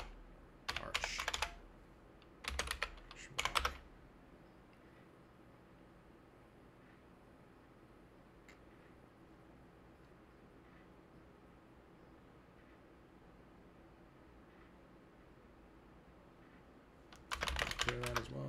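Quick bursts of typing on a computer keyboard, entering a terminal install command on Ubuntu, close by, with a long quiet gap in between before a final burst of keystrokes.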